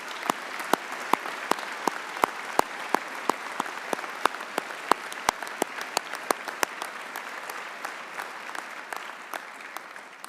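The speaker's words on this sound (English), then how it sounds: "could I ask you to give a round of applause to your staff?" Graduation ceremony audience at City of Glasgow College applauding the staff, a sustained round of dense clapping from a large hall with sharp louder claps punctuating it throughout.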